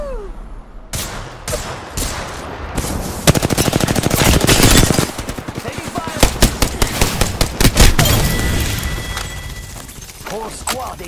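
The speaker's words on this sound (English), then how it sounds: "Taking fire!" Loud, rapid automatic gunfire fills an Apex Legends firefight, with dense bursts of shots and a few heavier booms, and a voice calls out between volleys.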